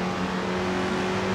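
An AC Cobra engine in Assetto Corsa pulls steadily after a gear change, with a close, sustained tonal drone and no talk over it.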